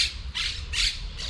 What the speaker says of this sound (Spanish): me atacan los pájaros